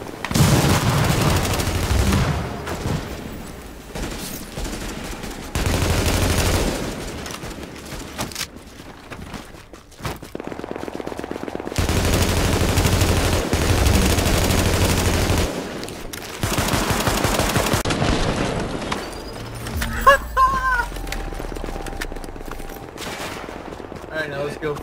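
Gunfire in The Division: long stretches of sustained automatic fire with sharp individual shots, loud and close, broken by short lulls, with voices heard now and then between the bursts.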